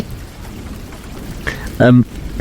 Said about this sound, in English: the rain is just running off my laden and numbed face